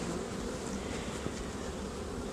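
Honey bees buzz in an opened hive, a steady dense hum that fills the clip from start to finish with no talking.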